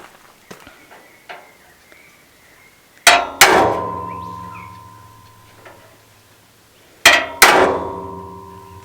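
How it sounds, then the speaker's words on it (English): After a few lighter taps, two pairs of loud metallic hammer strikes drive a nail punch into metal, each clang leaving a ringing tail. "just to get a nail punch and punch a divot in the metal where you want to drill."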